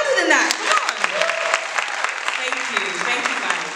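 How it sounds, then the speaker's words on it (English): An audience at a book launch claps steadily, a dense patter of hands in a room, while a voice speaks over it. "Can we clap a bit louder than that?"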